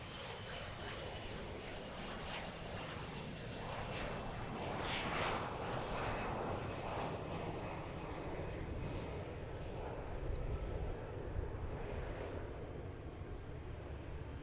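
Airplane engines roar at a busy US cargo airport in the morning, a broad, steady far-off rumble that swells slightly and holds for the whole stretch, with faint talk at times.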